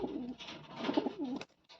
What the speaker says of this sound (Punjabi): ਆ ਕਬੂਤਰ ਹੈ